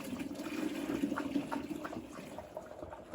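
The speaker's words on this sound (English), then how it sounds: "Hey, Billy, I got some water for you." Water poured and splashing for a farm animal named Billy, a faint steady trickle with a few soft sloshes, no talking.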